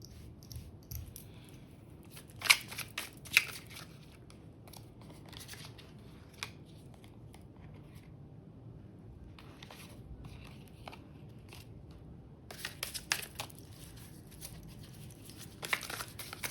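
Tarot cards handled and shuffled during a reading, with soft crisp riffles and scattered snaps heard close by, quiet stretches between, and a denser burst of shuffling near the end.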